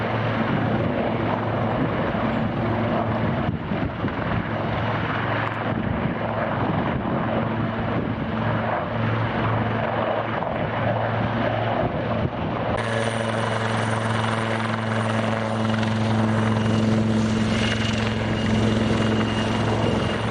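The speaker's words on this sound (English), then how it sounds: "My peaceful idyll has been shattered by the military, practicing in their choppers." Military helicopters thump loudly and continuously overhead on a walk in the Quantock Hills, the heavy rotor drone swelling louder partway through as one comes closer.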